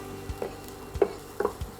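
Shallots frying in a pot for Taiwanese braised pork rice, heard as faint, sparse sizzling with a few soft stirring taps spaced across the moment.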